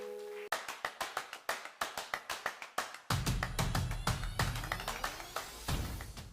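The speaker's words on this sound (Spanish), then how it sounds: "Dale un aplauso a Jesús." Rhythmic clapping from a church congregation, sharp regular claps in a steady beat, loud and close, joined after a few seconds by a deep booming low rumble, likely music, that continues under the claps.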